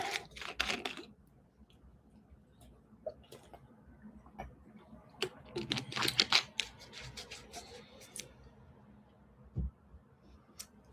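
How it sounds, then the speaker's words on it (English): Someone types on a computer keyboard in quick irregular bursts of clicks, fairly close but quiet, with short pauses between runs of keystrokes and a faint room hum beneath. "Typing out the question."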